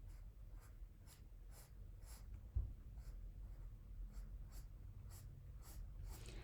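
Pencil drawing lines on paper in a quiet room, a series of soft, rhythmic scratchy strokes repeating every half second or so, faint and close.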